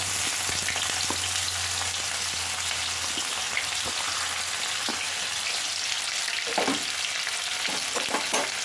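Chopped onions and a bay leaf fry in hot oil for a mutton dal gosht, giving a steady, dense sizzle throughout. A few scraping stirs come near the end.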